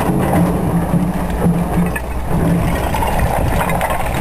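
A digger's engine runs at Honister with a loud, steady low rumble that holds through the whole stretch.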